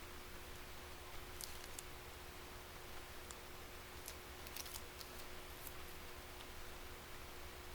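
Scissors cutting around a ghost sticker backed with duct tape for a pop-up card, faint snipping clicks scattered in short clusters over a steady background hiss, with no talking.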